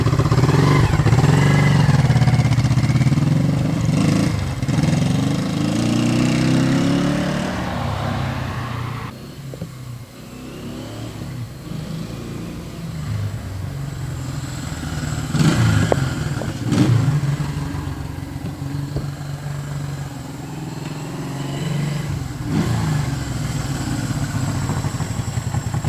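1973 Honda CL350 motorcycle engine running close by, a steady loud twin-cylinder burble with occasional blips of throttle and mechanical clatter, dipping briefly midway before settling back to a constant idle.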